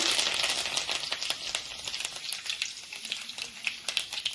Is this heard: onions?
yes